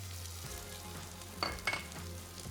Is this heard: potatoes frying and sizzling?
yes